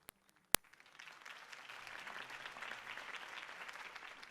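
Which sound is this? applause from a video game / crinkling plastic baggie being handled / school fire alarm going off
applause from a video game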